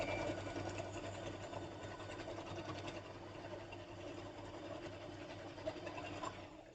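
A sewing machine stitches quilt squares together for a 9-patch block, running in a continuous fast mechanical whir with a steady rattle, close and fairly quiet, with no talking.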